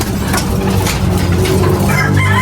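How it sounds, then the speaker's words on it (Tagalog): Loud, close clucking and crowing of chickens or roosters, several calls overlapping in a short burst with no talk. "Meron pala tayong ibon dito."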